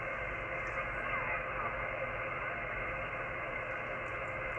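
An amateur radio receiver tuned to a frequency gives a steady hiss and static wash that holds at an even level the whole time, with no clear voice coming through.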